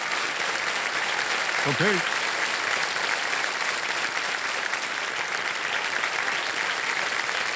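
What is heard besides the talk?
studio audience applause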